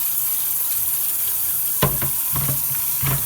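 Sea moss is rinsed under a running kitchen tap to wash off sand, a steady gentle stream of water joined partway by sloshing and splashing as the moss is handled.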